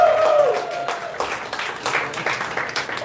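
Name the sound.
audience applause at comedy show in wine bar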